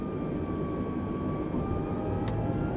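Jet engines of an Airbus A320neo climbing after takeoff in a flight simulator, a steady broad roar with a faint whine and one brief click near the end.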